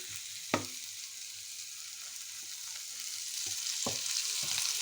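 Mustard oil drizzled over food in a pan for a lunch dish, giving a steady close sizzle that swells slightly toward the end, with a few sharp utensil taps scattered through.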